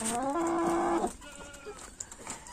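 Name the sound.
Maran roosters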